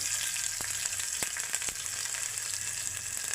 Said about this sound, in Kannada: ಈಗ ಎಣ್ಣೆ ಹಾಕಿ, ಎಣ್ಣೆಗೆ ಸಾಸಿವೆ ಹಾಕಿ, ಸಾಸಿವೆ ಹಾಕಿದ್ಮೇಲೆ ಬೆಳ್ಳುಳ್ಳಿ